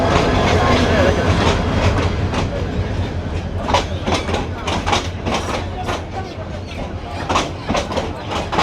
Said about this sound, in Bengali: বাজারের মধ্যে দিয়ে ট্রেন যাচ্ছে।